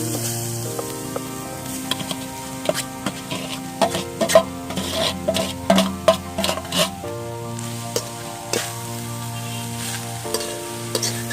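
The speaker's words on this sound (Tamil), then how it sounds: "இப்போ 1 கிண்ணி தேங்காய் பூவை நம்ம இதில் போட்டு வாட்டிக்க போகிறோம்." Grated coconut dry-roasts over low heat in a pan with a soft sizzle, while a spoon scrapes and stirs in irregular strokes, close and fairly quiet.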